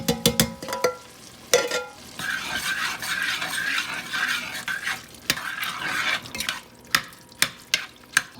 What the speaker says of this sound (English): So now I'm going to put a can of tomatoes in.